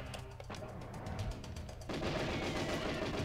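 Rapid bursts of gunfire from the Nintendo 64 game GoldenEye 007, a dense stream of shots that grows louder and busier partway through, with no talking over it.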